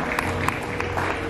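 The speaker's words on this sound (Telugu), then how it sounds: "huge round of applause for all the couples" A crowd at a Telugu association's Ugadi celebration in Taiwan claps for couples after their ramp walk, a brief burst of steady, dense applause filling the room at close range.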